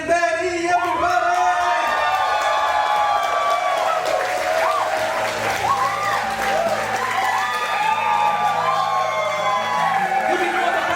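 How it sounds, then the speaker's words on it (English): Wedding guests cheer, whoop and applaud for the bride and groom, a loud dense crowd roar with shouts and sustained clapping filling the room. "give me the most amazing energy and the biggest cheer for Ali and Betty, everybody"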